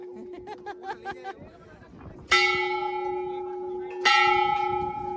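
A temple bell at Mount Abu is struck hard twice, each loud clang ringing out with a long sustained hum, preceded by rhythmic chatter and crowd noise.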